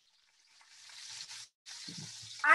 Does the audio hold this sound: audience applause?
no